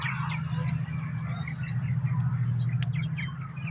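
Birds call around Telford Lake, with faint, scattered chirps over a steady low rumble of outdoor background noise.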